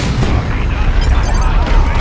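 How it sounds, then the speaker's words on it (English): A grenade blast inside a building in the Dawn of War 2 video game gives a loud, booming, rumbling explosion that fills the whole moment, with crackling debris over the low roar. "Put a grenade through the windows."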